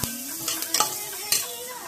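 Chickpea sundal is stirred in a pan, a spoon scraping and clinking against the metal over a soft sizzle, with a few sharp knocks in quick succession.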